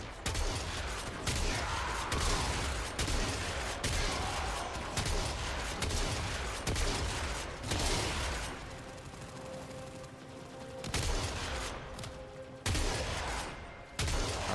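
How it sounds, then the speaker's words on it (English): Dense, sustained gunfire from a Warframe mission, with bursts and volleys rolling almost without pause, briefly thinning near the end before loud shots resume. "Stop shooting at me."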